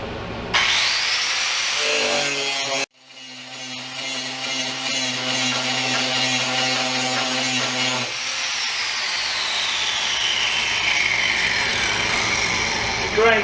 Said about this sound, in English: I'm going to put like a bevel on this edge with the grinder